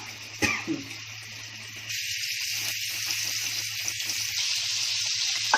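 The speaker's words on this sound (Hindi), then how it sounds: "अब मच्छी फ्राई करूँ। पहले तेल डाली हूँ मच्छी में, ये शालो फ्राई होती है" Fish shallow frying in oil for a Konkani thali: a steady, soft hiss and sizzle grows after a brief clatter, with small crackles running through it, close and continuous without talking.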